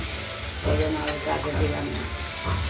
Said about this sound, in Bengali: আর পেঁয়াজটা কেটে কুচিয়ে দিয়েছি আমরা হালকা ভেজে নেবো